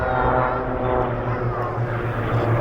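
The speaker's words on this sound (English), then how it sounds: "Cap 232s are in the lead rear position in the formation, the extra 300s forming the wingman." Cap 232 and Extra 300 aerobatic propeller planes flying in formation at a vintage airshow, a steady loud droning engine roar with a low throbbing tone that holds throughout without pause.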